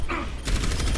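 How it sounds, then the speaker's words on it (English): Automated turret in the Overwatch video game firing a sustained burst of rapid shots, loud and close, with dense continuous gunfire filling the second half after a quieter start. "Good job, Torbjorn, your turret saved us."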